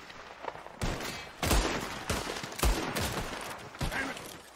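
Gunfire in the video game Red Dead Redemption 2: several sharp shots and bursts crack out at irregular intervals over a noisy background, fairly close, with no talk.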